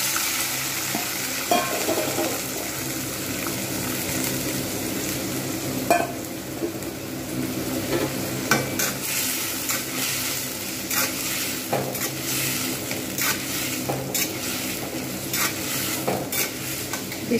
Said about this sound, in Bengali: চিংড়িগুলো এবার আমি ভেজে নেব।